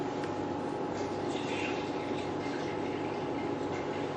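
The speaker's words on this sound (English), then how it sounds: "now we add the pure water" Water pours steadily into a container, a continuous rushing, gurgling wash that holds even throughout, close up.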